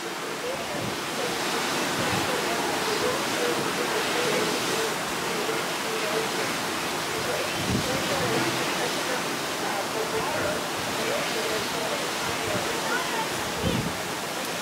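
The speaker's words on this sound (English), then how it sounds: "Big waterfall over here." A big waterfall near Sawyer Glacier in Tracy Arm, Alaska, gives a steady, broad roar of rushing water that holds evenly throughout, with faint voices and low thumps mixed in.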